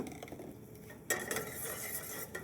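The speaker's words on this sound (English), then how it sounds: "I'm just going to want to saute my shallots just for a minute or so" Shallots hit a hot pan of reheated ribeye steak fat and drippings, starting a sudden broad sizzle after a quiet moment, with light metallic scraping and clinks of a utensil against the pan.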